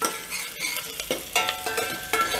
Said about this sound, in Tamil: 2 நிமிஷம் ஆனியன் வதங்கட்டும்.